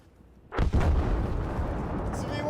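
In a video game, a V1 flying bomb explodes with a sudden heavy boom followed by a long rumbling roar that slowly decays, loud and close, with a player speaking faintly nearby.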